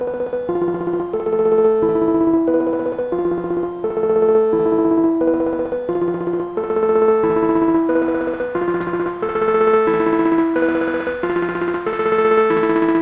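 Synthesizer pattern run through an Alesis Microverb III 1U rack delay and reverb unit: a steady, repeating sequence of bright tonal notes with a dense, crunchy digital wash, loud and continuous throughout with no talking.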